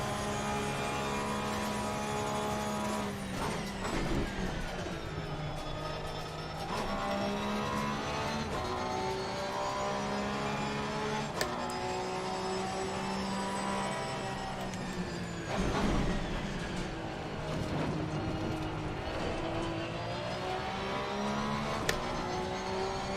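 Race car engines roar in the Assetto Corsa Competizione racing game, a loud, continuous droning whine whose pitch climbs and drops with gear shifts and passing cars over a long stretch, with no voices.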